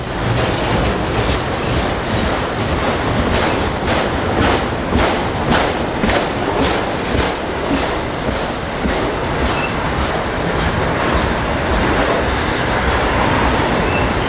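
A freight train carrying tractors rolls steadily past nearby on a main line, wheels clacking in a regular rhythm over the rails with a continuous loud rumble throughout.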